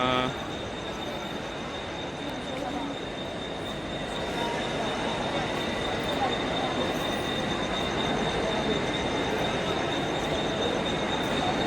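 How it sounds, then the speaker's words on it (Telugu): A crowded Mumbai local train pulls into the station with a continuous heavy rumble of wheels on rails and a thin, sustained high squeal over the noise of the platform. "మన ట్రైన్ అయితే వస్తుంది చివరికి"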